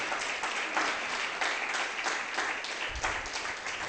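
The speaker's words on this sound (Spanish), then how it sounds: "Den un aplauso a Jesús" A crowd applauds steadily, a dense wash of clapping that holds at an even level throughout.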